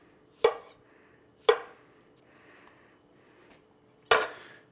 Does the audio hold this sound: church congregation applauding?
no